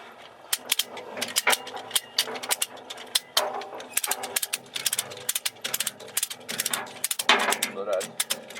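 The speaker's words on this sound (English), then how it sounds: "I want to ratchet up the slack like that." A ratchet rake taking up cable slack, with rapid clicking pawl ratchets coming in irregular bursts, close and fairly loud, mixed with mechanical clunks.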